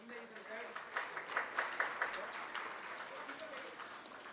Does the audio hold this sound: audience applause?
yes